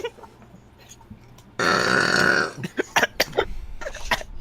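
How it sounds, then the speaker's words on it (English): A loud, drawn-out burp lasting close to a second, followed by scattered chuckles and small vocal noises during a casual card-game session. "it was just a burp"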